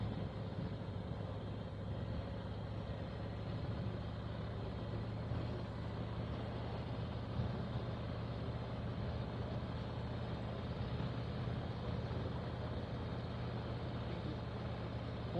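A vehicle rolls slowly along a corrugated gravel road in the South Dakota Badlands, giving a steady low engine rumble and continuous road noise with no break throughout.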